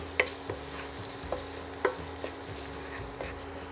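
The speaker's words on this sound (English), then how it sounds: "Go ahead and add the crab meat." Crab meat being added to mushroom stuffing in a pan with the heat turned off, heard as soft scattered stirring scrapes and a few light taps over a faint low hum, quiet and close.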